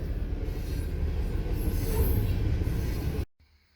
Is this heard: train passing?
yes